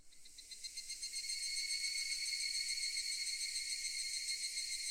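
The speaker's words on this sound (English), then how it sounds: "and there's cicadas." Cicadas drone in the background of the visual novel game Higurashi When They Cry, a soft high-pitched pulsing buzz that swells in over the first second and then holds steady, with no voices.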